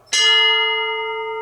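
A single bright notification bell strikes once, loud and close, its clear metallic tone ringing on and slowly fading over more than a second.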